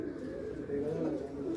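Pigeons cooing among a flock kept by a pigeon fancier: low, throaty, rolling coos that repeat continuously from nearby birds, with faint voices in the background.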